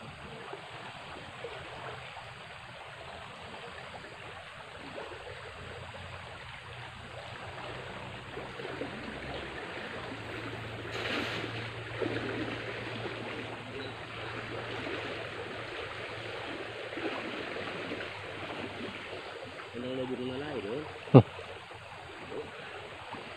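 A deep, swift flood-swollen river rushes steadily in a continuous broadband wash for the whole stretch, with a low hum underneath and a brief sharp knock near the end.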